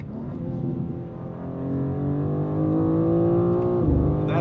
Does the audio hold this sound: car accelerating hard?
yes